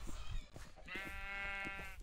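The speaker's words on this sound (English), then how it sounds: "Oh, it's the yellow sheep." A yellow sheep bleats once in Minecraft, a short wavering game sound effect that stands alone at moderate level after brief background noise.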